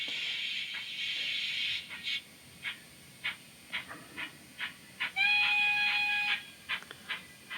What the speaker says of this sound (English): I'm going to back up a locomotive to this set of wagons, British UK prototype.